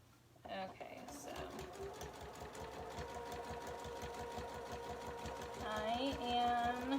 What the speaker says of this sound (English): I am doing the top stitching down